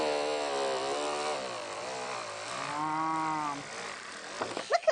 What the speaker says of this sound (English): It's just sort of the vibration of the machine behind it that's cutting through.